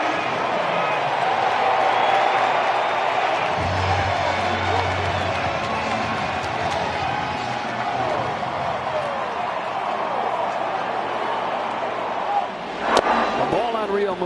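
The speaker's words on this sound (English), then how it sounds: "Crowd's letting you know." A baseball stadium crowd roars and cheers steadily at a Padres–Phillies NLCS playoff game in Philadelphia, a broad sustained wash of noise with a commentator talking over it.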